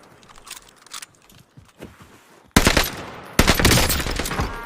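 Cooper Carbine firing in the video game Warzone Pacific, with sparse clicks and handling noises first, then loud sustained bursts of rapid automatic fire in the last two seconds.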